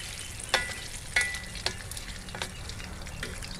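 Mantis shrimp frying in hot oil in a pan, a steady close sizzle with a few sharp crackling pops and spits rising above it, no talking.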